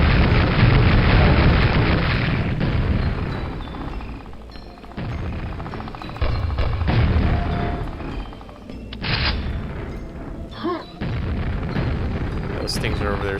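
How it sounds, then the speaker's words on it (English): Homing rockets burst in the Quake video game as a string of loud, rumbling explosions, several booming blasts separated by brief lulls, over continuous game noise. "These are like homing rockets."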